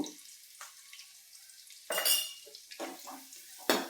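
Spoon clanking and scraping through puffed rice with dal and turmeric in a metal pan, a few sharp knocks and rattling bursts between quiet moments, close and without talk.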